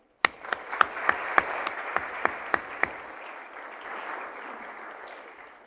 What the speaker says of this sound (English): can you give them a round of applause now?